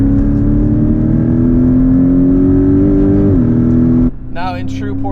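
A Porsche 718 Cayman with a 2.5 liter turbocharged engine accelerates from inside the cabin, its loud, steady engine drone rising gradually in pitch before easing off, followed by a voice speaking over the quieter hum.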